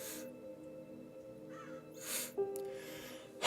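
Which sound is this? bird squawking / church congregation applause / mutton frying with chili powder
bird squawking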